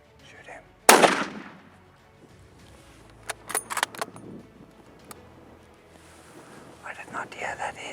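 A single loud rifle shot cracks out close by while hunting an old ram, followed by quieter clicks and handling noises and whispered talk.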